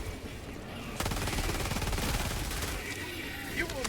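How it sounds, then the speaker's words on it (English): Rapid automatic gunfire from the Helldivers 2 video game, aimed at zombie enemies' legs, breaks in abruptly and rattles on as a dense, loud, sustained burst over game noise. "shooting at the zombies' legs is allowing me to chop them down"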